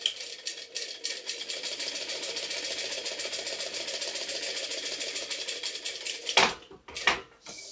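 A sewing machine stitches a clear pouch in a steady, rapid needle rhythm for several seconds, then stops, followed by a few brief handling clicks and rustles near the end.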